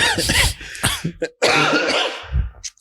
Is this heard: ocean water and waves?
no